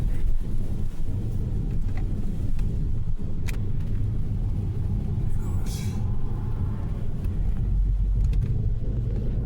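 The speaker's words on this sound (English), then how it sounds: "I'm used to it accelerating a lot harder than that" Car accelerating on the way to the highway in sport mode, a steady low engine and road rumble with wind noise throughout, under occasional talk inside the cabin.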